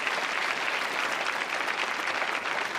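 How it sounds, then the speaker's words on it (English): A comedy club audience at a stand-up special claps steadily for about three seconds, a dense, even wash of many hands with no voices over it. "You can clap for them."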